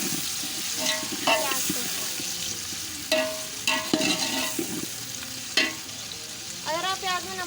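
Sliced onions mixed with salt sizzle in a hot pan while a spoon scrapes and stirs them in bursts. The crackling is steady and close, and a voice speaks briefly.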